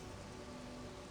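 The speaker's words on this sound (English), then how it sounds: "when it's raining in the Talon overworld, it splashes on the hub" Rain splashing in the Tallon overworld of Metroid Prime Remastered, a brief steady patter of drops with a faint game tone beneath, even and unbroken.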